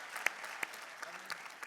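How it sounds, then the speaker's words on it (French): An audience applauds at a professional care-sector congress, a short patter of claps heard faintly and at a distance, with a voice mixed in. "je pense qu'on peut applaudir"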